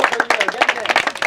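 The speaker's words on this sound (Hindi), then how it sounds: "एक बार जबरदस्त तालियां बजा दो" Audience at a Rajasthani quiz show clapping in a brief, uneven burst of overlapping hand claps, fairly close and steady over about a second.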